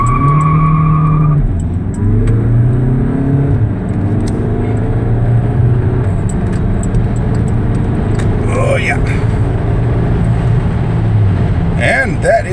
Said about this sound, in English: You could probably hear the tires scream a little bit